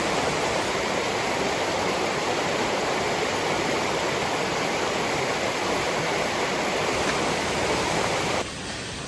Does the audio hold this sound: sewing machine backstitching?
no